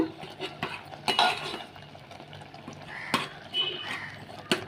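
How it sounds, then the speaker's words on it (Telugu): A ladle mashes cooked raw mango and tomato in a pot, producing repeated metallic clinks and scrapes against the pot with soft wet squelching between them. "ఇప్పుడు గరిటెతో ఇలా స్మాష్ చేసుకోండి"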